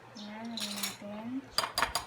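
A utensil stirs cookie mixture in a bowl, with a short voiced hum followed by several quick scraping clinks of metal against the bowl.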